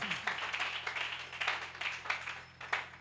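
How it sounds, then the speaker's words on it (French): A church congregation claps and applauds during a thanksgiving service. The clapping is quick, dense and steady, rising in short surges over a faint low hum. "Nous acclamons très fort."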